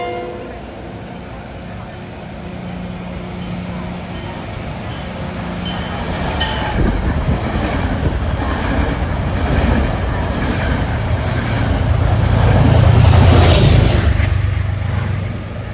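Metro-North train 882 from Poughkeepsie pulls into Scarborough station, its rumble building from faint to a loud, close roar with rattling wheels and a brief squeal, after a voice speaks at the start.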